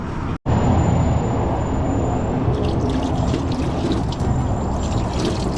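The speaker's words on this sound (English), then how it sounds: "It's trickling steady coolant." Coolant trickling steadily from the engine of a Jeep Grand Cherokee, a constant hissing, splashing flow heard up close and loud, broken only by one brief dropout near the start.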